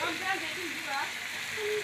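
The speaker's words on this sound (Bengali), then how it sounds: "দিয়ে আমি ভালো করে তেলে ভাজে নিব" Spices sizzle in hot oil in a steady, close, even hiss, with faint tonal clinks or squeaks from the pan running through it and no talk.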